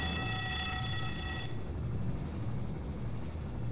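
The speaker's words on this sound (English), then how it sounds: "And once again we get the familiar sound of the Combine dropship." Combine dropship from the video game Half-Life 2 flying overhead, a loud continuous roaring drone with a high whine that fades out partway, steady throughout with no talk.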